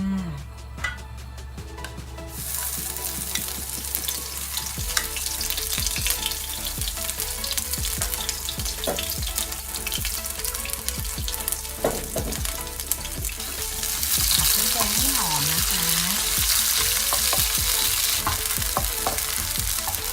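Steady sizzling of Thai curry paste stir-frying in a hot pan, with stirring scrapes and clinks throughout, growing a bit louder and brighter toward the end.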